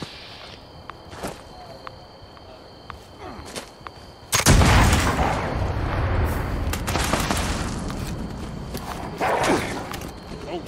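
Gunfire in a post-apocalyptic shooter game: a few sharp isolated shots, then a sudden loud burst and sustained rumbling volley with repeated cracks, up close over background noise.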